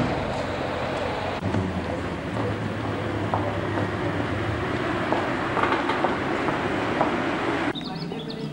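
A heritage train on the Gloucestershire Warwickshire Railway pulls into Winchcombe station with a continuous close rumble and faint wheel clatter, with occasional birdsong in the background.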